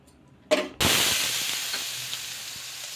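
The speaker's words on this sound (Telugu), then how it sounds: "ఇలా రెండు వైపులా బాగా కాల్చుకొని ఇంకా తీసేసుకోవడమే" A barley and moong dal dosa hits a hot pan with a sudden sharp hiss that swells into steady, loud sizzling frying, slowly easing off while small crackles pop through.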